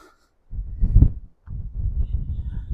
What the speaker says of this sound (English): Sorry about the wind, it's about 40 miles an hour here today.